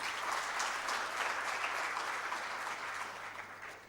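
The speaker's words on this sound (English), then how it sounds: "Can we please give a big round of applause to all of these?" Audience applause at a corporate event held with PwC as knowledge partner in Pakistan: a dense, steady wash of many hands clapping together that carries on for several seconds and begins to taper off at the end.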